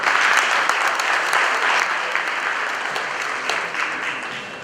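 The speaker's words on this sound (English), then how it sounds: "Please give her a big round of applause." An audience at a formal power breakfast gathering gives a dense, sustained round of applause, loud and continuous throughout before tapering slightly at the end.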